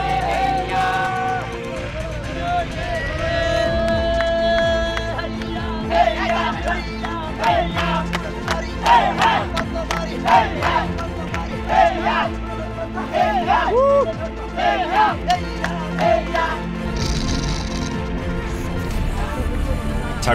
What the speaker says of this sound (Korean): 힘들수록 육체적 고통과 지루함을 달래기 위한 우령과 함성이 더 커집니다